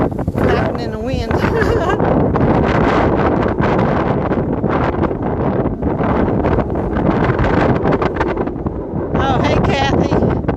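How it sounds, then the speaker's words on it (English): Strong wind gusts buffet the microphone outdoors in downtown Gatlinburg, a loud continuous rushing roar with flapping and rustling, while a person talks over it. "Oh, it's windy out here. Look at that bag up there flapping in the wind."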